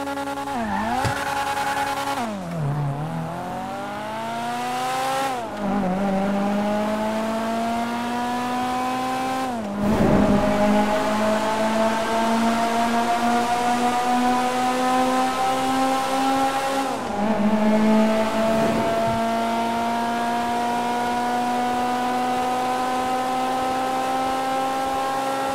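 A car engine in the video game GTA 5 revs hard and climbs through several gears, each upshift giving a dip before the rising whine resumes, loud and close with no talk.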